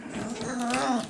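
A four-week-old puppy growls briefly during play, a short, thin, rising-and-falling grumble heard close up and alone.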